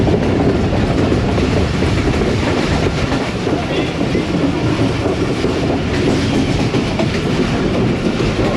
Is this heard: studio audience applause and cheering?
no